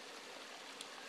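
Water trickling steadily through drainage holes beneath garden seedling trays in a terraquaponics wicking-bed setup, a faint, continuous stream-like wash with no distinct splashes.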